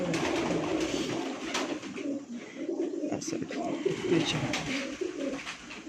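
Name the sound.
golden pigeon cooing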